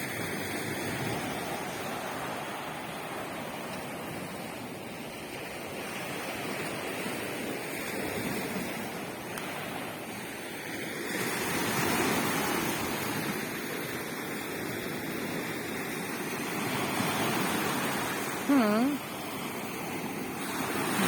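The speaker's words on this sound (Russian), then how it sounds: "А сегодня море утром волнуется." A rough morning sea, surf and waves rolling in a continuous broad wash with gentle swells in loudness, some wind noise on the microphone, and a short bird-like chirp late on.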